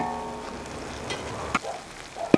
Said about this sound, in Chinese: 这样给它炒一下啊，一定要炒一会儿